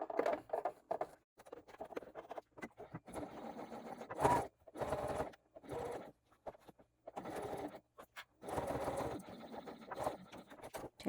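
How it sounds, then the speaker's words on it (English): A sewing machine stitches a 3/8 inch seam on a fully lined boxy bag in short bursts of whirring stitching, separated by brief pauses and quiet handling of the fabric. "I'm just going to sew my 3/8 of an inch seam"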